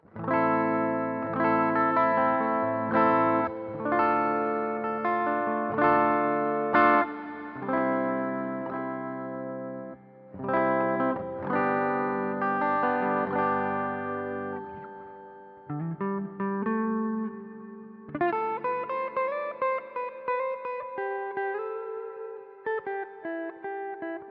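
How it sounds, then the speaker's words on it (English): Clean electric guitar through a BOSS GT-1 amp modeler playing chords and short melodic phrases, bright and ringing with a touch of reverb, no voices. "I have a natural clean amplifier and cabinet combo, and this is what it sounds like clean."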